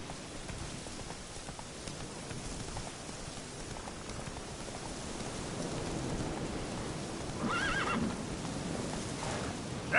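Roach, the horse from The Witcher 3, gallops with a steady clip-clop of hooves over a rain-like hiss, then gives a clear whinny near the end.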